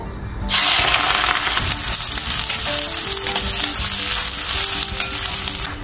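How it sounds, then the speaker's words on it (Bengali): Onions drop into hot oil in a wok and start frying loudly up close, a sudden burst of sizzle that settles into a steady crackling hiss with faint stirring scrapes. "তেল গরম হয়ে গেছে, এবার পেঁয়াজগুলো ভেজে নেবো।"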